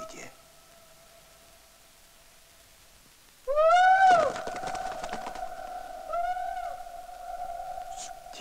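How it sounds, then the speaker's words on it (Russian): A strange forest bird from a 1975 film gives a mournful, wavering cry. It rises loudly near the middle, then a softer repeat follows, over a steady low tone in the background. "вслушаться в печальный крик странной лесной птицы, появившейся с вечера"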